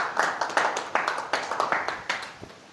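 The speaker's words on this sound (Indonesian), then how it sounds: "Tepuk tangan untuk kita semuanya hari ini." An audience at a live communication-skills workshop claps in scattered, uneven bursts, with a few separate hand claps standing out against a softer bed of applause that thins toward the end.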